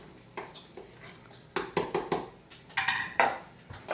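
A utensil scrapes and clinks against a bowl while crab cake mixture with olive oil is stirred, in irregular bursts that grow louder and busier midway, close up with no talk.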